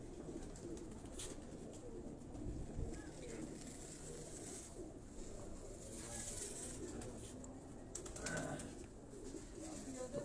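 Capped pigeons kept by a pigeon fancier in Quetta coo repeatedly in soft, throaty bursts near the listener, with a fluttering moment and someone talking quietly under the birds.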